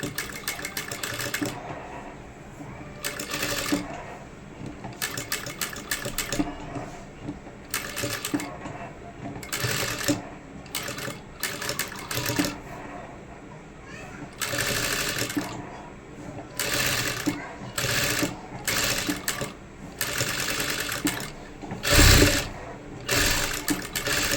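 A domestic sewing machine stitches along the edge of a Peter Pan collar on a baby frock, running in repeated bursts of steady whirring with short pauses between them, while someone talks over it at times.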